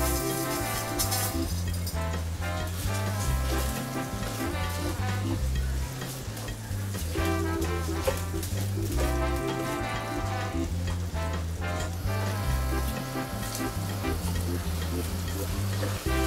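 Rice frying and being stirred into sofrito for black paella, a loud continuous sizzle with repeated scraping and clinking of the spoon against the pan, heard up close with no voices.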